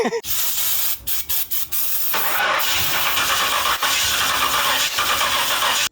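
A Honda Civic being pulled for parts, apparently out of gas, cranks over on its starter in a few quick stuttering bursts, then settles into a loud, steady churning whir that runs without catching.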